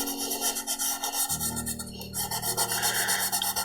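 Pencil shading on paper being rubbed and blended with a steady, soft rasping scrape, close and continuous, with a low hum joining partway through.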